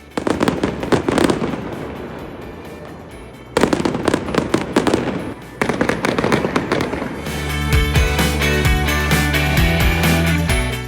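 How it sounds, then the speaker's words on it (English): Fireworks after a Chicago holiday parade: dense crackling bursts and loud booms in quick clusters, with a brief lull partway through, then a sustained heavy barrage with a steady low rumble underneath. "once the parade ends, the fireworks start"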